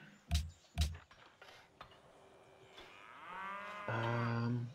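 Cattle moo in the Civilization V strategy game, a long low moo building to a loud, sustained bellow. A couple of sharp thuds and quieter clicks come before it.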